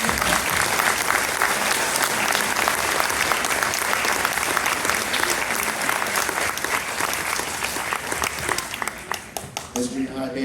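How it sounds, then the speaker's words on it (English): Sustained applause from a junior high school band concert audience, dense steady clapping filling the hall for about ten seconds before thinning slightly at the end. "would you please help me in giving them a nice round of applause"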